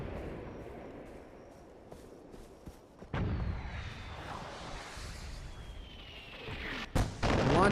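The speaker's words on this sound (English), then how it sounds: "Launching like mortars." Mortar fire launching in Far Cry 4, heard as a sharp boom around the three-second mark and another near the end, each followed by a sustained rumbling roar over a low background din.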